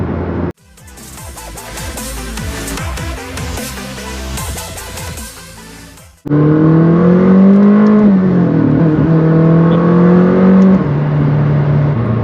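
McLaren 600LT supercar accelerating hard, engine revving loudly and climbing in pitch, cut by gear shifts, then a higher sustained howl rising and dipping as it pulls through the next gear, close and loud.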